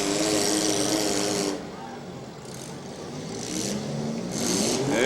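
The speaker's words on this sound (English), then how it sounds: "He's kind of revving it up, and every time he dumps it down into gear, that engine definitely falling on it." A demolition derby car at the 2013 Portage County derby revs hard up close, its engine climbing loudly, sagging into a lower drone as it drops into gear, then building again in rising surges.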